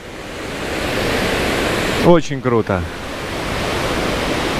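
River rushing below a cliff, a steady broad roar of water heard continuously, with a short spoken phrase briefly over it in the middle.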